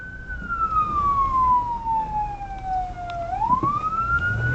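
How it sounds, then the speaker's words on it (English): Police car siren wailing during a high-speed chase, a loud continuous tone that sweeps slowly down and then climbs back up, heard close over road and engine rumble. "the trooper activated sirens"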